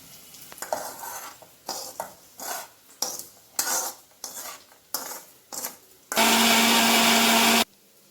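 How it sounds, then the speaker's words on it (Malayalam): A mixie grinds roasted masala for fish curry in short bursts. A string of brief pulses separated by pauses leads into one loud sustained grind lasting about a second and a half, then the motor stops. "ഇത് വാടുന്ന സമയം കൊണ്ട് നമുക്ക് വറുത്ത് വച്ചിരിക്കുന്ന മസാല ഒന്ന് അരച്ചെടുക്കാം"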